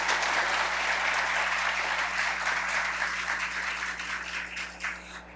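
Sustained audience applause at a solemn session marking 50 years of the Pastoral Operária in Fortaleza, dense steady clapping filling the room that gradually thins toward the end, with no talk over it.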